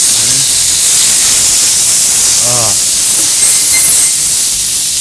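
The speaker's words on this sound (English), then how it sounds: "All right, so we're just gonna sear that." A ribeye steak sears in a hot pan with a loud, constant broadband hiss and sizzle that fills the whole stretch. A brief voice or tonal sound rises faintly underneath for a moment.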